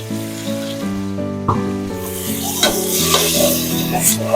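Roast spice paste with ground nuts hits a hot pan and sizzles steadily, with stirring scrapes rising over it, while loud background music with sustained tones plays throughout.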